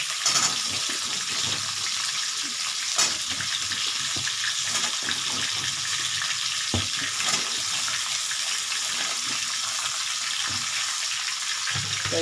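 Pointed gourd and pumpkin frying in oil in a pan, a loud continuous hissing sizzle that stays even throughout, with occasional soft knocks of a utensil; no talking.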